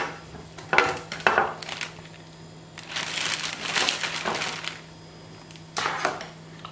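Beetroot, vodka and orange cure mixture folded over ocean trout fillet: wet, squelching crushes and crinkling bursts come in uneven clusters, close and moderately loud, with quiet gaps between.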